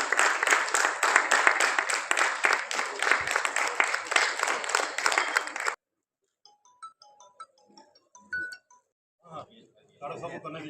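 Meeting audience of bank pensioners and officers claps in a dense, even burst for several seconds, then the applause stops abruptly, leaving quiet room clatter and faint sounds.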